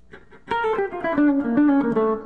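A guitar plays a scale descending from the 5 pattern into the 7 pattern, a run of clear plucked notes stepping downward one after another, close and fairly loud, with no talking.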